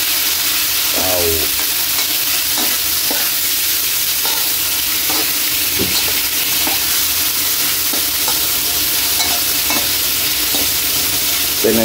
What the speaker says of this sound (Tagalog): Imikos muna natin.